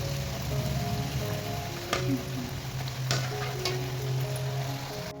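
Chirote pastries frying in hot oil, a steady close sizzle and crackle with occasional louder pops, no talk.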